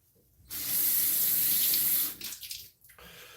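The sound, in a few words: tap water running to wet beard before shaving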